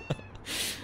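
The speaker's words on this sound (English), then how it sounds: "My cat!" A short cat meow from the video game No More Heroes, a quick near cry followed by a brighter hissing burst.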